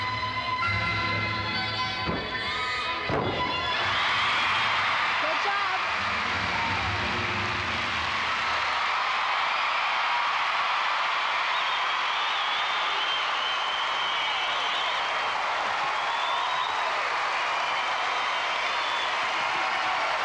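Large arena crowd at the 1991 McDonald's American Cup gymnastics meet cheering and applauding as a gymnast lands her double back dismount, with a steady, loud roar of clapping and cheers that swells early and sustains throughout.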